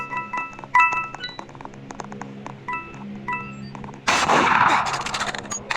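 Roblox Murder Mystery 2 gameplay carries short chiming game tones, then a sudden loud burst of gunfire that holds for a couple of seconds near the end. No speech is heard.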